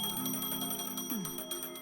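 A phone in a video game rings with a clear, bright electronic trill made of repeated tonal pulses, alone and close.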